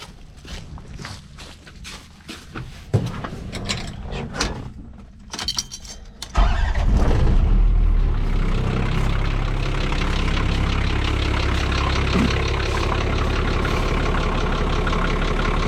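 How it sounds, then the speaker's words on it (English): A car engine cranks and catches during a battery cranking test, then settles into a steady, loud idle after some initial rustling and handling noises. "Start the engine."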